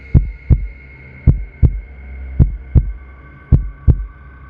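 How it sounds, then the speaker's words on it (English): A pounding heartbeat sound effect thumps in four deep, close lub-dub pairs, evenly spaced with short gaps between them and no other sound. "heart pounding."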